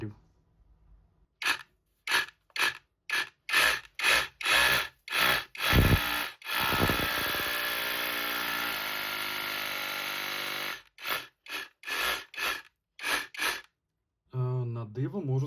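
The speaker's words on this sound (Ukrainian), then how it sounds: "Давайте спробуємо зробити в ній отвір буром 6 мм." A cordless rotary hammer bought from AliExpress drills a 6 mm hole in a reinforced concrete panel outer wall. Short bursts come first, then a steady loud hammering grind of several seconds, followed by more brief stop-start bursts up close.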